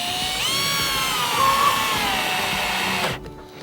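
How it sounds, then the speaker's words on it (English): A cordless power drill spins up and drives screws into pine on a chicken coop build, a close, loud whining motor running steadily for about three seconds before cutting off abruptly. "Get my drill, get my screws."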